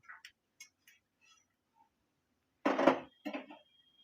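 A metal utensil lifts fried peanuts from a pan, giving a few light clinks and then two brief bursts of scraping and rattling against the pan, close by in a quiet kitchen.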